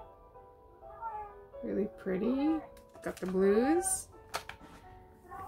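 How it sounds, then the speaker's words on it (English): A house cat meows several times in drawn-out, rising cries close to the microphone while someone talks quietly nearby. "Excuse my cat."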